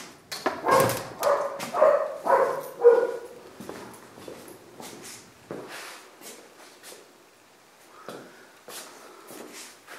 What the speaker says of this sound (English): German Shepherd next door is trying to climb that fence.